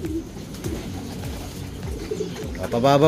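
Racing pigeons in loft boxes coo repeatedly, rolling low calls overlapping one another close by, while someone talks over them.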